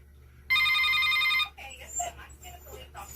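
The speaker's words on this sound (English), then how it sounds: "Someone's ringing the bell" A doorbell rings once with a sustained electronic tone lasting about a second in an indoor room over a low background hum, followed by a person speaking.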